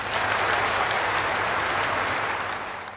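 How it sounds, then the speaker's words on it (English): A church congregation claps together in a dense, continuous wash of applause that stays loud throughout and eases off slightly at the very end. "Clap for Jesus Christ."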